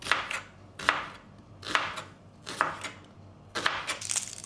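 An onion is chopped with a knife on a board: six or seven crisp, evenly spaced chops ring out close by, each a sharp cut with a short tail, over a quiet background.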